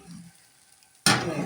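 Eggs drop into hot oil in a pan, bursting into a sudden loud, close sizzle after a second of near silence and crackling on steadily.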